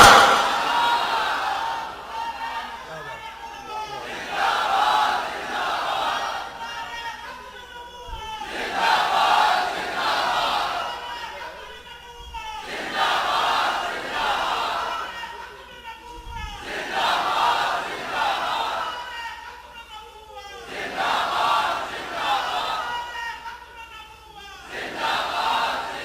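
A large crowd at an Islamic religious gathering chants slogans in loud, rhythmic waves that swell and fade in repeated bursts, with brief thumps between calls.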